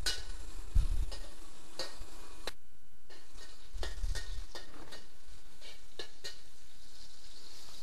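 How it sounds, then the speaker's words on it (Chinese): Minced garlic sizzles and stirs in two tablespoons of salad oil in a wok, with steady frying hiss and occasional spatula scrapes and clinks against the pan. "爆香蒜碎。"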